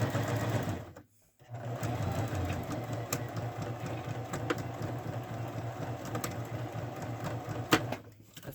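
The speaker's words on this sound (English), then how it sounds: "so we're going to back stitch over the seams" A sewing machine back stitches over the seams of a cushion cover, a steady mechanical whir and rapid needle clatter. It pauses briefly near the start, then runs continuously, close and clear.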